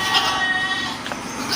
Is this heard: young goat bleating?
yes